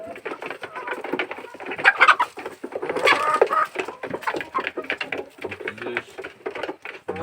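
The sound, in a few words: chickens clucking while eating feed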